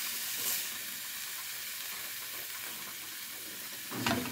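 Kale leaves sauté in a hot pan in a home kitchen, giving a soft, continuous sizzle and hiss with a brief clatter of stirring at the end, quiet and with no talking.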